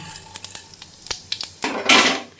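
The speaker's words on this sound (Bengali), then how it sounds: "এই সামান্য একটু তেলের মধ্যে দিচ্ছি একটু গোটা জিরে ফোড়ন" Whole cumin seeds tempering in a little hot oil: brief clicks and clatters of a pan and spoon, then a short burst of sizzling near the end, close by.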